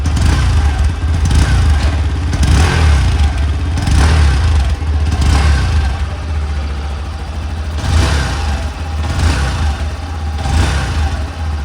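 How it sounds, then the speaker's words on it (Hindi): A Bajaj Platina 110 motorcycle engine runs steadily with a deep exhaust rumble, rising in a few throttle revs before settling back, loud and close throughout. "सबसे पहले आपको इसके इंजन और एग्जॉस्ट के साउंड को चेकआउट करा देता हूँ।"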